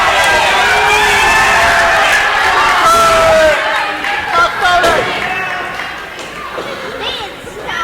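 A crowd at a pro wrestling show cheers and yells loudly, then the roar gradually fades while voices carry on underneath.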